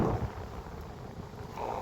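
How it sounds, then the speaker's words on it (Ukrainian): Fresh wind rushes across an open lake in steady blustery gusts, with soft wave wash underneath. It is continuous and fairly loud, with no voices. "Як на морі, хвиля, вітер свіженький"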